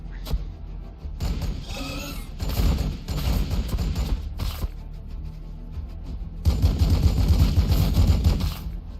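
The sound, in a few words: Space Marine bolter fire in Warhammer 40k BattleSector video game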